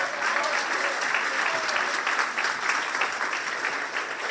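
A church congregation applauds during a communion service, a dense, steady wash of many hands clapping that holds at an even level throughout without pause.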